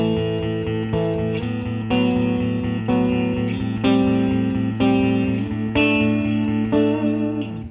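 Electric guitar plays a steady rhythm exercise at full tempo, accenting beats two and four, with sustained chords and a low bass note repeating in even strums, moderately loud and alone with no talking.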